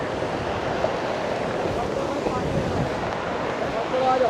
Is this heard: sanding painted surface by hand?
no